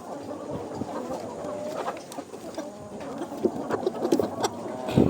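Chickens clucking at close range with soft, repeated calls that grow busier toward the end, over a low background murmur.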